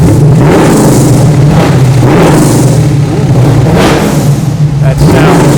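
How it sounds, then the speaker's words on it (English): A Corvette engine booms through a Borla exhaust system, giving a loud, deep rumble that swells in repeated surges with sharp pops between them, close and overpowering. "Absolutely really cool sound out of that Borla system"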